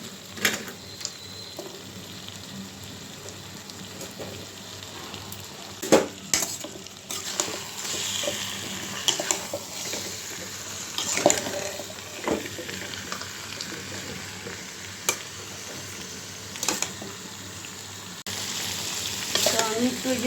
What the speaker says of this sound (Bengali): মাংসটা একটু ভালো করে কষিয়ে নিব।